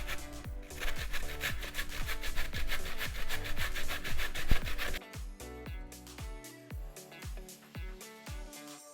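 Zucchini is rubbed down a grater for fritters in steady, rhythmic strokes, a dense rasping that eases into slower, more separate scrapes toward the end, close and fairly quiet with no talking.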